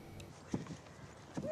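Horse hooves clip-clop at a walking pace on a village road in a rural Yorkshire soap scene, a few distinct knocks at moderate distance, with faint background ambience and no speech.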